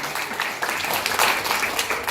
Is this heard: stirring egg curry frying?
no